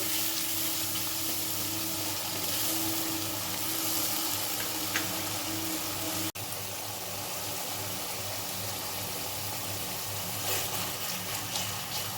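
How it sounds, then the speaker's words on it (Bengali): Spice paste for doi potol, seasoned with salt and a little sugar, frying hard in a pan, making a loud, continuous close-up sizzle that barely changes from start to finish. "এবার মশলাটা ভালো করে কষিয়ে নেব।"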